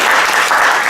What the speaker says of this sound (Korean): 우리 수고했다고 서로 좀 보면서 박수 한번 합시다